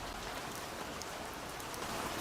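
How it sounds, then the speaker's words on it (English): Steady rain patters on an umbrella just overhead, a dense, even hiss of drops with no voices, continuous and fairly close for the whole stretch. "she still heard the pitter-patter above her"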